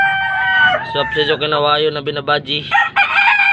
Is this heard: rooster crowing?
yes